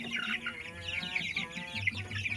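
Heritage cross chickens on a poultry farm cluck and chatter softly in a steady stream nearby, with low farm hum underneath and no talking.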